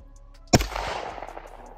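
A single sharp, loud gunshot is fired at a bowling ball, with a short decaying echo afterwards. Faint background noise comes before it.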